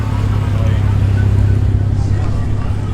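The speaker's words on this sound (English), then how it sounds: "As the BMW rolls in as well." A BMW rolling in at a street car meet in Penrith, its low engine rumble steady and close beneath a hubbub of crowd chatter and nearby voices.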